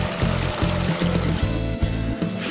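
Water runs from a faucet in a loud, close trickle, with splashing pulses recurring at a steady rhythm and no voices.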